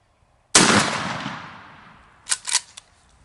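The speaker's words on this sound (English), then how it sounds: "This year I'll be shooting Remington Premier Magnums." A single loud, sharp shotgun blast from a 3-inch Remington Premier Magnum shell with 2 ounces of number 6 shot, its roar decaying outdoors over about a second, followed by a few short, fainter clatters.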